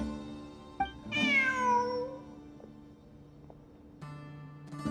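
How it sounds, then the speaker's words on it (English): A cat gives one long, clear meow close by, its pitch sliding down as it fades, in an otherwise quiet space with a faint steady hum and a few small knocks. "Look, a cat."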